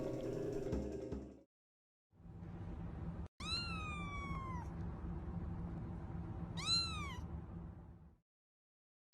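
A distressed tabby cat locked in a cage gives two loud, drawn-out meows a few seconds apart over a low steady hum, with brief silences at the start and end.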